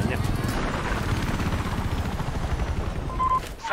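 A helicopter gunship in Battlefield 4 drones with a steady, loud rotor thrum and faint bursts of gunfire beneath it, with voices talking over the game sound.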